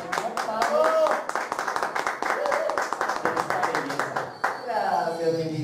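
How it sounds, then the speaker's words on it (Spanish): An audience at a Mexican television special claps in a quick, uneven rhythm that fades near the end, with a voice heard over the clapping. "Un aplauso, por favor"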